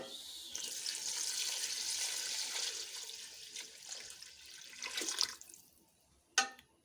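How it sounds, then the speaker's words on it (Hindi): A liter of water poured into a cooking pot for nihari, a continuous rushing splash that tapers off, followed by a brief clink near the end. "अब हम इसमें 1 लीटर पानी ऐड करेंगे"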